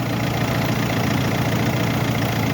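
A Mercedes-Benz engine runs steadily after a starter motor repair, a continuous close idle hum with a low rumble and no speech.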